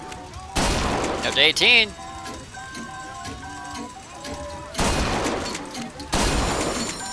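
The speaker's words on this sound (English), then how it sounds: "Never seen shooting like that." Gunfire rings out at a shooting gallery in the video game Bioshock Infinite, with sharp bursts of shots and shattering targets amid a fairground bustle, while game voices talk over part of it.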